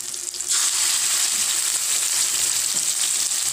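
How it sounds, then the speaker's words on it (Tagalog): Marinated chicken drops into a hot pan and breaks into a loud, steady sizzle that holds evenly throughout, close and unbroken, with no talking. "ilagay mo na ang iyong chicken na minarinate mo"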